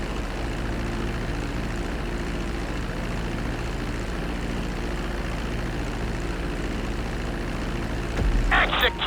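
An airplane engine drones steadily as the plane comes in to land on a runway in GTA V, a loud continuous hum with low rumble, followed by a short burst of added noise near the end.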